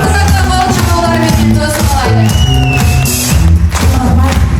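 A concert crowd in Osh greets a singer with loud continuous cheering, whooping and applause over sustained music, the whole space dense and roaring throughout.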